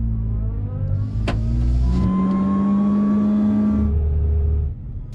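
A Renault Twingo 2 RS or Peugeot 206 S16 accelerating hard, the engine note climbing steadily through the revs, dropping at a gear change and then rising again, loud and close from inside the car before easing off near the end.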